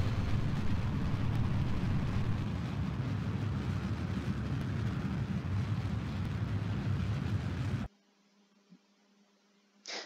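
Rocket engines firing in the video game Kerbal Space Program, a loud, steady broadband roar that holds for about eight seconds, then cuts off abruptly into near silence with a faint click near the end.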